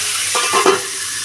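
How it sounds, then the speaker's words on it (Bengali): Cauliflower florets fry lightly in a pan, a loud, steady hiss broken by two quick scraping strokes of a spatula, close and without any talking. "হালকা করে আমি ভাজবো, যাতে পুরো সেদ্ধ না হয়ে যায়, সেইভাবে আমি ভেজে নেবো ফুলকপিগুলোকে"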